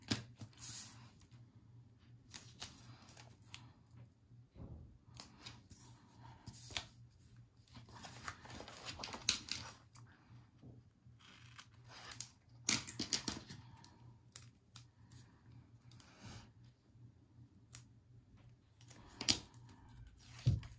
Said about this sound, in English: Cut with your Teflon scissors.